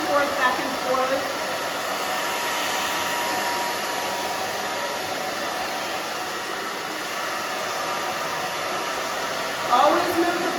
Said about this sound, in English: Always move the blow dryer and your fingers when you dry this.